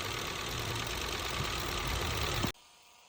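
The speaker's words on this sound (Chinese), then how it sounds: "这个声音你们觉得像什么？ 像顶筒还是像凸轮轴往下磨掉的声音？" An Audi A3 engine idles with a steady mechanical rumble and a fine, fast ticking knock running through it, suspected worn camshaft or valve lifter, heard up close for about two and a half seconds before cutting out abruptly.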